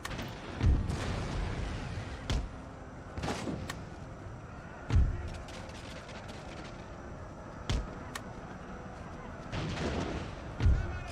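Cannon and musket fire crack across a battle in Empire: Total War, with sharp, booming shots at irregular intervals, some near and loud and others more distant, over a low ambient hiss.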